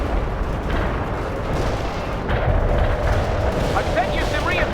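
Artillery fire and explosions in the video game World in Conflict, a continuous rumbling barrage of booms and bursts holding steady with a slight swell near the end, faint voices under the din.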